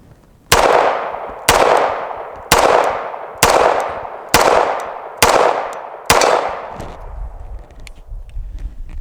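A Remington Rand 1911 pistol, a vintage CMP gun, fired outdoors in seven loud, close, evenly spaced shots about a second apart, each with a sharp crack and a short decaying echo, followed by faint rustling.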